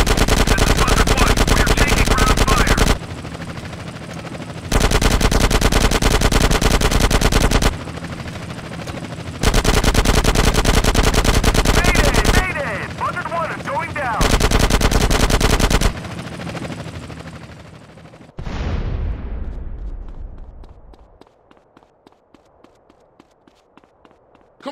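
Sustained bursts of rapid automatic gunfire in Grand Theft Auto San Andreas alternate with quieter gaps, with a helicopter-like rumble; a final burst ends and the sound fades away.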